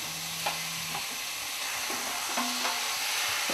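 Liver sizzles and crackles in a hot frying pan, with a steady bright hiss and occasional soft stirring scrapes, heard up close.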